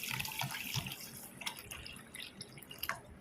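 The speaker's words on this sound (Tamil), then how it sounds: "இப்போ இதில் தண்ணி ஊற்றிக்கிடுவோம்." Water runs and splashes into a bowl of rice, with soft drips and trickles, close and fairly quiet, no voices.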